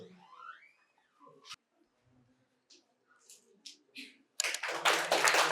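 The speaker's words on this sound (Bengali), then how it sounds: "জোরে তালি" A burst of loud clapping breaks out near the end as a medical college hospital quiz audience applauds a winner, following a quiet stretch with scattered taps and faint voices.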